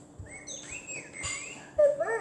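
Small bird chirping in several short, bright calls, with a louder, busier burst of tweets near the end, heard fairly close with no talking over it.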